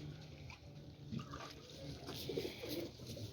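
Healthy, long-bodied Teddy pigeons give soft, low cooing calls in a couple of short bursts, faint and close, over a steady background hum.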